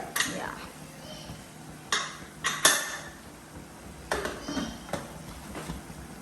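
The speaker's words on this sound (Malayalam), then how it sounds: "കുക്കർ മൂടാലേ." Metal clanks and clicks as a pressure cooker lid is fitted and locked, several sharp knocks spaced out over a faint background hum.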